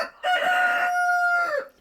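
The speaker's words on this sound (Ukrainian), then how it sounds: "тут другий півень кричить" A rooster crows once, loud and near, a drawn-out cock-a-doodle-doo lasting over a second before trailing off, on a village farm.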